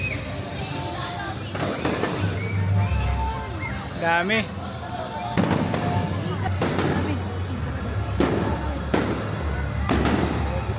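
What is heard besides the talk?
fireworks display at Enchanted Kingdom at night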